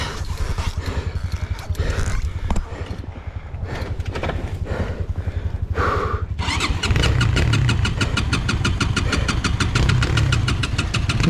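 A Minsk X 250 enduro motorcycle engine cranks in rapid rhythmic chugs without catching, the sputtering cycles pausing briefly before a steadier, louder run of cranking continues up close.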